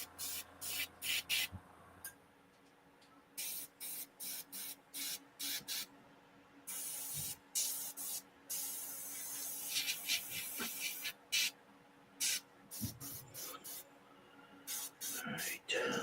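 Airbrush spraying paint onto a King Kong model kit, with repeated short bursts of soft hiss starting and stopping in an irregular rhythm, close and fairly quiet.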